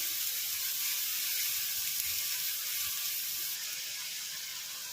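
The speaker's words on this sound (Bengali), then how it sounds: "এবার পেঁয়াজটাকে ভালো করে ভেজে নেবো, একদম গোল্ডেন করে, লাল করে।" Chopped onion frying in hot oil and ghee gives a steady, close sizzling hiss that holds evenly throughout with no talking.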